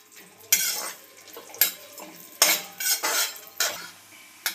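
Dry fruits roasting in a pan for rice kheer give off a few sharp metallic scrapes and clinks of a spoon against the pan, spaced irregularly, close and fairly loud, with no talking.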